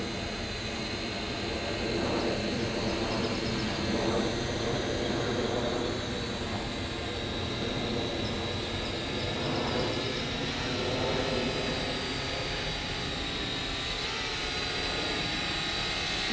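A small FLITT wifi FPV selfie drone hovers nearby with a steady, buzzing whine of propellers throughout, no talk.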